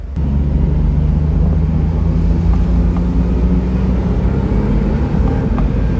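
A Smart Roadster's turbocharged engine drones loud and close as it is given more gas, a steady low rumble holding for several seconds with no talking over it.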